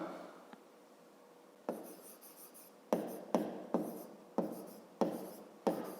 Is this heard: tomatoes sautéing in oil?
no